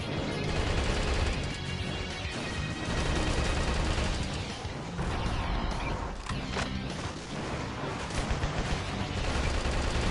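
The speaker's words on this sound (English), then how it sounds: "I think you can shoot the statue. Well, you can. I mean, well, I am doing it." Heavy continuous gunfire and impacts as a mech shoots at a statue in Metal Wolf Chaos XD, a loud dense barrage of shots and crashing hits that persists throughout.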